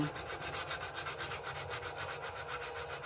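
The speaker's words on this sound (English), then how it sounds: "And you just sand" Steady back-and-forth hand rubbing of sandpaper on wood with the grain, a rhythmic scratchy swish repeating several times per second, close and moderately quiet.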